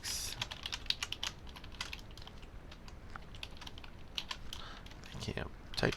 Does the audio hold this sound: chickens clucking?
no